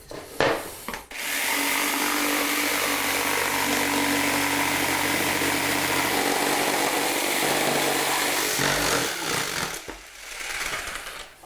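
A small hand-held power saw bites into hardwood flooring with a loud, sustained whining cut lasting several seconds, followed by a brief restart and spin-down.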